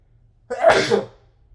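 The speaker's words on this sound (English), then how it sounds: "hold on, I'm gonna sneeze" A single sharp, close sneeze bursting out of silence, followed by quiet.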